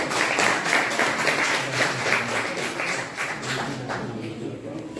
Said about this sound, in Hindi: आप लोग जोरदार तालियों से स्वागत करेंगे।